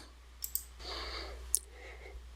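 Computer mouse clicking while restoring a backup: two quick clicks, a short pause, then another sharp click, all close and quiet against a faint background hiss and soft breathing.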